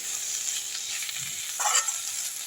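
Red ponnanganni greens with grated coconut sautéing in a pan give a soft, steady sizzle, with a brief stirring scrape near the end.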